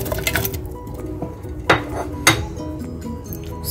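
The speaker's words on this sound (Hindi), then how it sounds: "इसके लिए हम ले रहे हैं 1 कप वाटरमेलन, जिसे हम डालेंगे ग्राइंडिंग जार में।" Watermelon pieces dropped into a grinder jar make two sharp, fairly close clinks about half a second apart, over light kitchen clatter and a faint steady hum.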